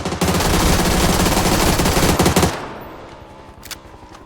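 Rapid automatic gunfire from the battle royale video game PUBG rattles loud and close for about two and a half seconds, then stops abruptly. A few faint, distant shots follow against a quieter background.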